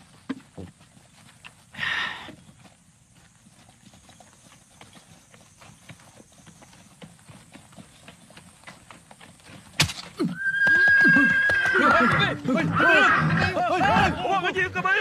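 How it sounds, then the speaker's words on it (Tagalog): A horse's hooves clop and the horse whinnies amid shouting voices in a period drama scene, starting faintly, then turning loud and busy with overlapping calls and movement in the latter half. "Itabi niyo yung kabayo!"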